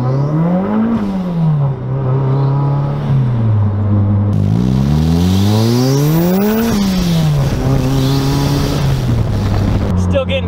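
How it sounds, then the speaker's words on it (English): A boosted car prepped for drag racing accelerates hard on the street. The engine rises and falls through the gears as the wheels spin under throttle, loud and close with wind noise over the microphone. "I'll try a little less throttle, see if we can reduce that wheel spin and hook up a little better."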